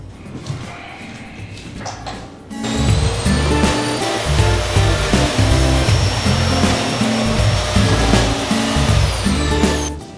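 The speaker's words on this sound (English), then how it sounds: "I am actually going to vacuum" A vacuum cleaner switches on after a quiet moment and runs steadily with a loud whining drone, close by, for the rest of the clip.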